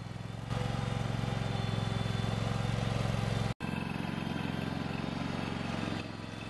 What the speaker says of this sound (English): This is their guy's first time driving a tractor